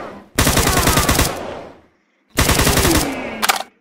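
Gunfire from a Minecraft gun mod video game, two loud, close, rapid automatic bursts of about a second each separated by silence, with the second ending in a couple of sharper shots.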